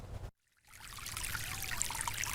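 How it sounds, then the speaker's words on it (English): Water from a broken main streaming across a parking lot outside a detention facility. A steady rushing trickle resumes after a brief cut and runs on evenly with no talk. "There's a constant stream of water running from the Adams County Detention Facility across the parking lot and onto the street."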